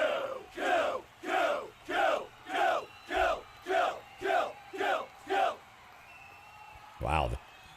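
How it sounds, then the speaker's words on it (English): Rhythmic crowd roaring in the EverQuest game Project 1999 runs in about ten evenly spaced swells, one per second, followed by a short rising shout near the end. "Wow, the crowd is bloodlusting over here."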